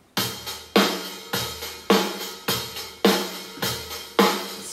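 A simple rock drum loop from a drum app, example 11 of its rock library, repeats a steady kick-and-snare beat with crashing cymbals, each hit sharp and loud, roughly eight evenly spaced strikes with no voices.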